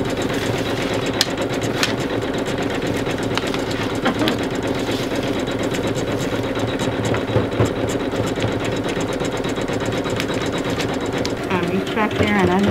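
An embroidery sewing machine stitches a towel, running at a steady, continuous mechanical hum with rapid needle chatter throughout, loud and close, with faint sounds near the end.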